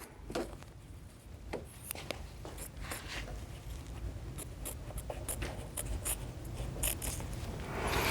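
Scissors or a cutter snipping and trimming fabric pieces for a baby blanket, a run of close, quiet, irregular cuts and rustles with no talking.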